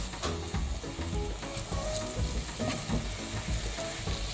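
Foo yung ingredients frying in a pan before being mixed with beaten egg, a close, busy sizzle with stirring and occasional utensil scrapes, no one speaking.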